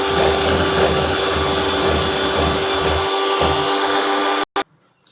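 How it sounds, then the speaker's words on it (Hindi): An electric beater whirs steadily while mixing cake batter for a coconut cake, a loud, continuous motor drone that cuts off abruptly near the end with a brief restart click. "ये डालेंगे और बीटर ऑन कर लेंगे।"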